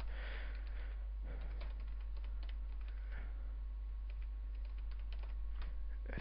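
Keys clatter on a computer keyboard in quick, uneven bursts, quiet and close, over a low electrical hum.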